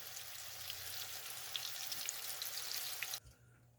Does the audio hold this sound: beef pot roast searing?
yes